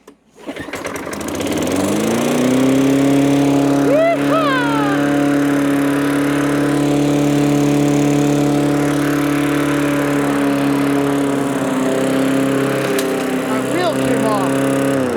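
A 27-year-old Tecumseh small engine on a mower, running on a newly replaced carburetor, holds a steady loud idle hum after a quick start, with a couple of brief revs partway through.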